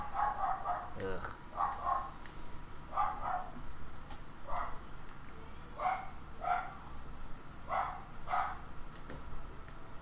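Dogs in the video game Dark Souls 3 bark in short, repeated bursts at a steady rhythm over a low game ambience, with a single voiced grunt near the start.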